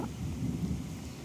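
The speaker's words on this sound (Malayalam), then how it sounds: "ഉഫ്, നല്ല ഇടിയാണ് ഗൈസ്" Thunder rumbles through a rainstorm, a low continuous roll with steady rain noise, no voices.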